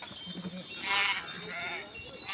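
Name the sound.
sheep bleating while drinking water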